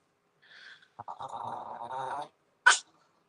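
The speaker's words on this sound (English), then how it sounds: "Freya growling and barking at the puppies because it's like 9 o'clock here" A dog growling and then letting out a single sharp bark at puppies late in the evening indoors; a low rumbling growl runs for about a second and a half before one loud, close bark.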